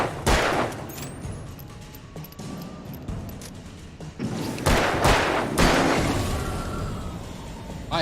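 Gunfire in the video game Alan Wake 2, with several heavy, booming shots spaced a few seconds apart over a noisy, reverberant game background.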